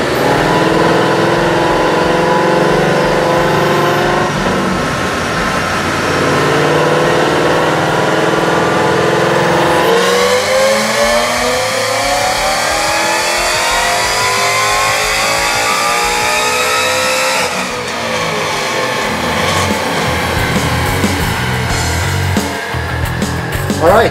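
A supercharged 2.3L Whipple Coyote V8 on a dyno with twin 68mm throttle bodies, revving loudly and steadily climbing in pitch through long sustained pulls, close and alone.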